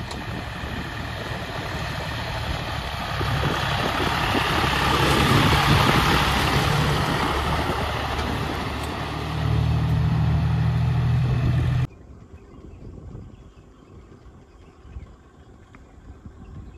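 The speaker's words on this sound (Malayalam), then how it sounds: "ഹെലിബ്രിയ എസ്റ്റേറ്റിലെ ഒരു ട്രാക്ടർ വെള്ളം കൊണ്ട് വരുന്ന വരവാണ് നമ്മൾ കാണുന്നത്" A tractor hauling water on the Heliberiya tea estate rumbles steadily close by for about twelve seconds, a loud low engine drone, then cuts away to a quieter outdoor background.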